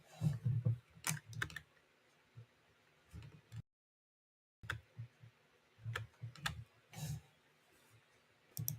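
Close, quiet typing on a computer keyboard comes in uneven bursts of clicks with one brief pause midway, no voices.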